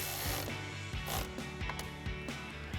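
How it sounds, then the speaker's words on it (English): A ratchet with a 10mm socket tightens a nut on a light bar mount, giving quick repeated clicking bursts in short strokes, close and clear with no talking. "We'll tighten this back up with our 10mm socket"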